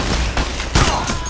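Rapid gunfire from a PAYDAY: The Heist heist on hard difficulty, a dense loud burst of overlapping shots with sharp cracks near the middle, continuous and close.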